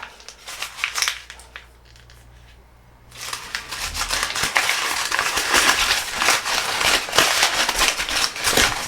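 Material being crumpled by hand to make a faux leather texture, crisp crackling and crinkling bursts close up, pausing briefly before a denser, louder stretch of scrunching.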